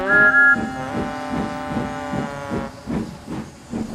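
Steam locomotive puffing along a branch line with a rhythmic, evenly spaced chuff and a sustained whistle, loud and close.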